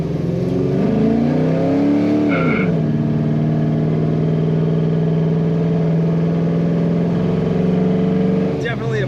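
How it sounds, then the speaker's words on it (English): A 1972 Chevrolet Chevelle automatic revs hard and climbs in pitch, drops abruptly at the shift into second with a brief tire chirp as the tires break loose, then holds a loud steady drone. "Definitely a powerful shift as it broke the tires loose going into second"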